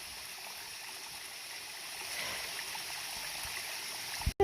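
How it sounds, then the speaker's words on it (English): A mountain stream spills as a small waterfall across a hiking trail between Gooch Mountain and Woody Gap on the Appalachian Trail, making a steady close rushing of water with no talk, ending in a sudden brief thump. "there's this stream that just pretty much, waterfall that pretty much just goes right across the trail"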